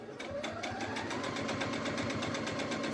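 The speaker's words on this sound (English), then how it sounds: "I'm just going to put some more lines on the front here, just to give the front some quilting." A sewing machine stitches quilting lines on fabric, running at a steady speed with rapid, even mechanical needle pulses and a motor whine, close and continuous for the whole stretch.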